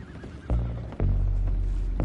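Horses neigh and stamp their hooves in Red Dead Redemption 2, with a few sharp thuds and whinnies over a low, steady rumble.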